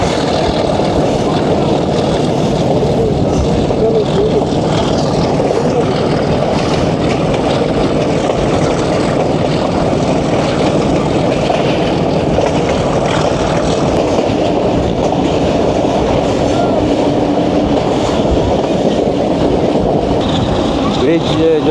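The PH-820 train rounds a curve on a line toward Havelian in KPK, a loud steady rumble and clatter of wheels on rails heard from on board, with voices faintly beneath.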